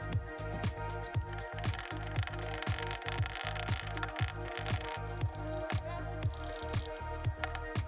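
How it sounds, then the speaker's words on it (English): Brown sugar being stirred into drained, rinsed tapioca pearls, a steady run of wet squishing, sticky strokes repeating at a brisk regular rhythm, close and fairly loud, with no talking. "Add 40 grams of brown sugar and mix well."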